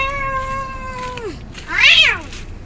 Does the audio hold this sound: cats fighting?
yes